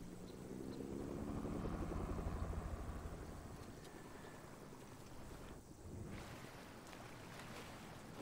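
Helicopters in the Fortnite video game drone with a steady, windy rotor wash that swells loudest early, then eases to a lower continuous rumble.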